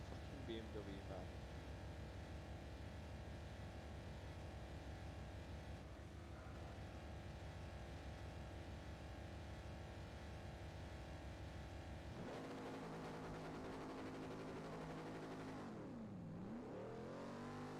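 A BMW Z4 racing in Forza Motorsport 4 drones with a steady engine note, then shifts and swoops through rising and falling revs near the end, faint and under a quiet background.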